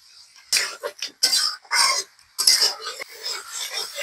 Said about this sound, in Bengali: আমি মাংসটা এভাবে কষিয়ে সামান্য পরিমাণে জল দিয়ে আবারও কষাতে থাকবো